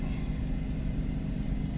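A car drives along a city street, its engine giving a steady low rumble and road noise throughout, close and continuous with no talk.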